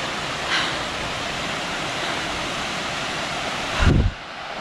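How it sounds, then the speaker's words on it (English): A waterfall in rocky backcountry on an off-trail hike, steady broadband rushing water throughout, with a brief heavier low thump near the end and no talk. "There's a waterfall."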